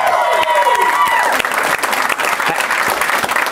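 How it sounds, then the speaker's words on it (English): Studio audience applauding and cheering at a Madden 20 NFL Club Championship Series final, a dense steady clapping that fills the whole stretch with faint crowd noise underneath. "Let's give him one more round of applause from studio audience"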